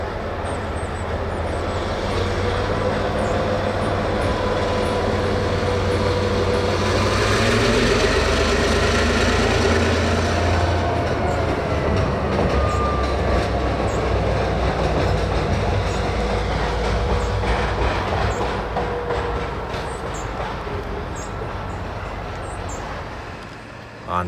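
A Housatonic freight train crosses a graffitied bridge on the Maybrook line with a loud, continuous rumble and wheel roar. The noise swells near the middle and stays heavy until it eases at the end.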